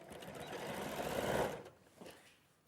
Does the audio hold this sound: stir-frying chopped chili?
no